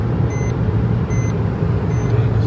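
Maruti Ignis 2020 facelift BS6 petrol sounds its speed warning after passing 80 km/h: three short, evenly spaced electronic beeps ring out over a steady loud road and engine drone inside the moving car.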